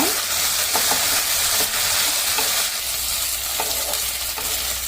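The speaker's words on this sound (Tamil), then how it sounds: "இப்போ நம்ம ஃப்ரை பண்ணி வச்சுருக்க ப்ரான் இதில் சேர்த்துக்கலாம் சேர்த்துட்டு நல்லா மிக்ஸ் பண்ணி விட்டுருங்க" Fried prawns are tossed into a hot pan with sautéed aromatics for prawn Manchurian, giving a continuous loud sizzle broken by several sharp scrapes and clatters of stirring.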